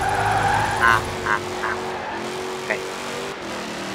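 A car drifting in the video game Forza Horizon 4, its engine droning steadily while tyres squeal in short bursts early on and then ease off. Someone briefly speaks over it.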